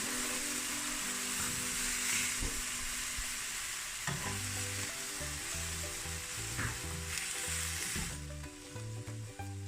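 Beef steaks sizzle steadily in a frying pan, a loud continuous hiss broken by a few sharp knocks and scrapes as the meat is turned, with no one speaking.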